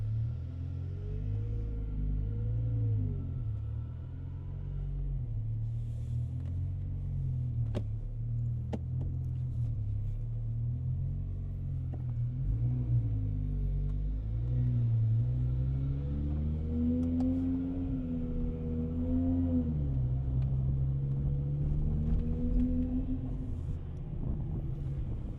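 Rebuilt BMW M5 V10 engine running smoothly while the car drives, a steady low rumble with rising and falling harmonic tones as revs change, close and continuous throughout.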